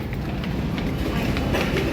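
A train rumbles steadily nearby, with a continuous low roar and faint rhythmic clatter of wheels, while voices talk faintly in the background.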